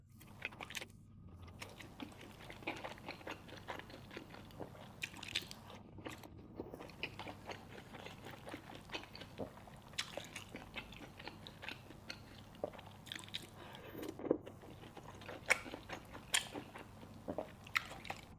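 Homemade dumplings with chewy hand-wrapped skins, eaten with vinegar and chili sauce, give quiet close chewing with soft squishes and small crunchy bites that repeat irregularly at low volume. No one speaks.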